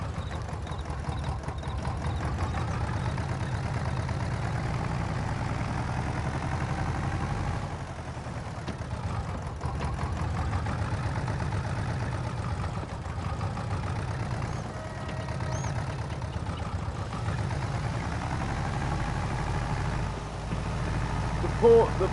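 A tractor engine idles and rumbles steadily in Farming Simulator 22 on PS4, a low continuous drone with slight swells in level and no talking.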